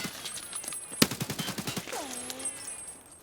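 Automatic AK-101 rifle fire in Escape From Tarkov, a rapid burst of around ten sharp, evenly spaced shots at close range, followed by fading echoes and a brief descending tone.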